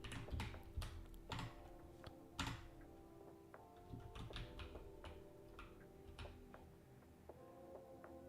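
Quiet keyboard typing: irregular bursts of light clicking keys, close up, with brief pauses and no talking.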